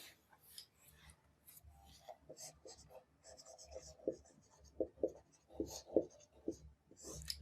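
Scratchy writing strokes on a board during a physics lesson on magnetomotive force and reluctance: a run of short, irregular scrapes and taps, close and moderately clear, with a voice speaking faintly underneath.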